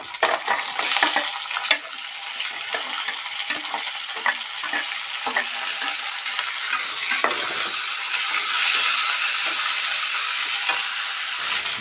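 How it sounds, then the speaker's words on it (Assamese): Drumstick pieces and potato frying together in hot oil with ginger, garlic and chilies, a steady bright sizzle broken by repeated spatula scrapes and taps against the pan, close and fairly loud, no speech. "ছজনা আৰু আলু একেলগে দি দিছোঁ তেলত"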